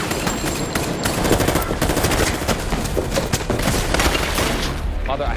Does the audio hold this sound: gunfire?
yes